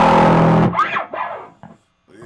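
Traynor TS50B amplifier driven into a distorted punk and metal guitar tone, a loud thick sustained chord that cuts off sharply, then brief fading string noise and a short return.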